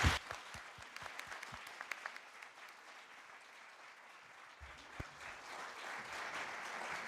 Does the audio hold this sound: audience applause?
yes